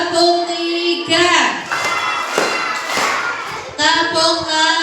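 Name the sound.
children clapping hands in a counting clap game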